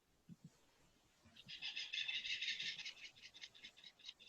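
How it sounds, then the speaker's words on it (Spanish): Small birds chirp and trill in a rural setting, a dense run of bright, rapid calls rising after a quiet start and continuing steadily at moderate distance, with no talk over them. "Se escuchan pajaritos."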